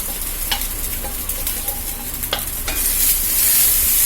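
Cooked, cooled, salted rice is stirred into a sizzling curry leaf tempering in a pan, with several scraping stir strokes over a steady frying hiss that grows louder toward the end. No voices.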